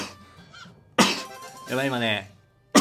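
A single sharp sneeze bursts out abruptly, close and loud, between bits of casual speech from a man with sore muscles while playing a mobile game.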